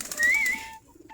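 Native Giribaz pigeons giving a short soft coo, close by, fading to near quiet.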